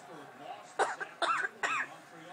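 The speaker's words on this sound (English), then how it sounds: "Now that's Ranger coughing." A dog coughs in three harsh, raspy bursts in quick succession, close by, separated by short pauses.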